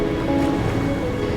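Waves crash and surge against rocks on the coast of Bruny Island under moody weather, a steady close wash of surf with some wind across the microphone and no voices.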